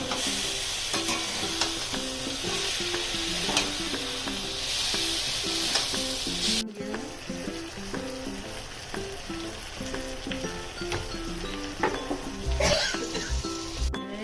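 Dry lati shutki fish fries at home in a pan, sizzling steadily and crackling up close while a utensil stirs and scrapes in a loose repeating rhythm, with a brief break midway.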